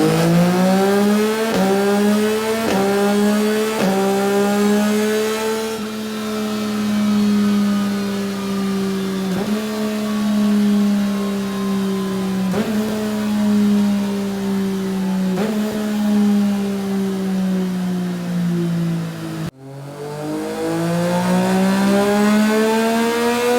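A Yamaha MT09 Tracer three-cylinder with a decat Lextek 400 long-can exhaust revs repeatedly, each blip climbing then falling back to a rumbling idle, loud and close, with a brief cut near the end before another rev.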